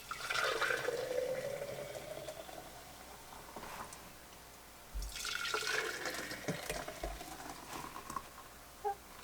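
Homemade almond milk drips and trickles through a strainer basket into a mason jar, a close, steady liquid patter with a few louder splashes and gurgles, and no voices.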